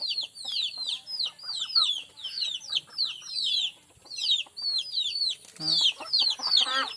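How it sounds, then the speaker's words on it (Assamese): Several chickens cluck and chatter nearby in quick, overlapping bursts, with occasional louder squawks toward the end. "এইবিলাক আমাৰ কুকুৰা"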